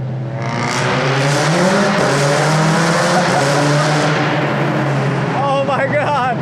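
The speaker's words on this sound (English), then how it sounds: "Rally car, following another rally car." A Lancia rally car roars past at full throttle on a narrow one-lane town road, closely following another rally car, its loud, harsh engine note sweeping by with tire noise and a sharp rising rev near the end.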